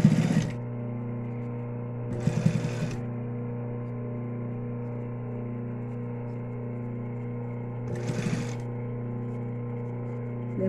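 A sewing machine stitches a small mini-backpack keychain in three short bursts of motor whir over a steady electrical hum, with long quiet running stretches between them.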